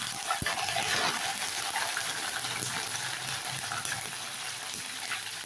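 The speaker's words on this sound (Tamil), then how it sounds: "பூண்டு நல்லா வதங்கட்டும்" Garlic sautéing in a pan for thuthuvalai kuzhambu gives a steady, close sizzle with a faint crackle throughout, with no one talking.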